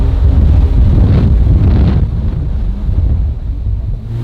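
A 600-plus horsepower dual-supercharged four-cylinder jetski-style aquatic utility vehicle roars across the water, a loud low engine rumble mixed with wind buffeting and spray that eases slightly toward the end.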